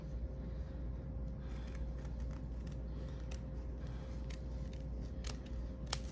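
Scissors cut out a felt ornament shape, giving a few soft, quiet snips and clicks spread over a low steady hum, close and faint with no talking.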